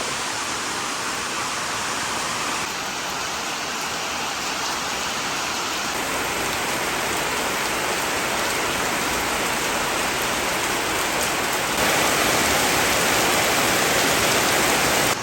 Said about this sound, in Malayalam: സൂപ്പർ മഴ